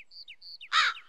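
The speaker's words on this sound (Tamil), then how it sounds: "காக்காய் கரையுது." A crow gives a brief, harsh caw near the end, preceded by a few thin high chirps, clear and close against an otherwise quiet background.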